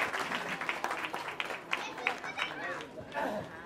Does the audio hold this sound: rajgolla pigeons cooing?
no